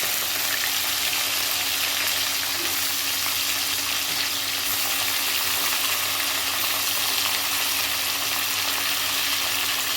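Brinjal fries in a hot pan with oil, giving a steady, close sizzle and crackle that continues unbroken with no voices.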